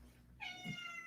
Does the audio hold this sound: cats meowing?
yes